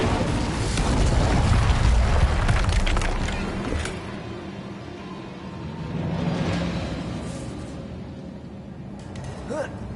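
Incendio fire spell cast in Hogwarts Legacy, heard as a loud whooshing fiery burst with a deep rumble that fades, then a second swell of flame, while a voice speaks over it.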